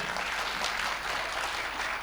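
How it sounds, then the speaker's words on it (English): Audience applause for a girl after her dance at a kids' event, a steady dense wash of clapping filling the whole stretch without pause. "Can we have a huge round of applause for her?"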